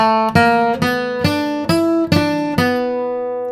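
Seven evenly spaced plucked guitar notes of the tune "Turkey in the Straw" in straight 16th notes ring out in a steady, even rhythm, each attack clear and sustained, played alone without any speech.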